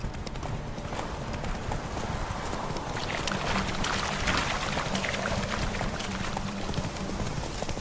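A horse gallops in The Witcher 3 video game, its hooves drumming in a steady, rapid clip-clop beneath a dense, noisy wash of game ambience throughout.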